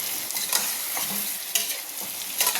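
Spices with turmeric fry in a pan while being stirred for khichuri, giving a soft continuous sizzle broken by a few sharp scrapes and clinks of the spoon, fairly quiet and close.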